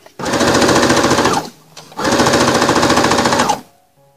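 A sewing machine stitches along the outline of fusible interfacing on a boy's suit jacket, running in two steady, fast, loud bursts with a brief pause between them.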